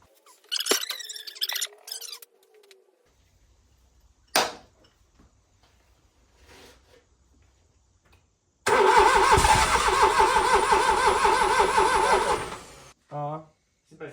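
Smart Roadster car engine cranking and catching after sitting unused for nine years, a loud sustained roar lasting about four seconds before cutting off, with people talking before it.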